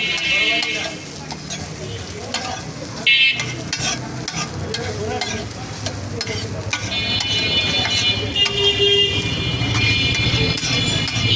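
Tripe frying at a busy street food stall in Bangladesh, a steady crackling sizzle with stirring scrapes, mixed with traffic noise, horn toots and background voices, loud and close throughout.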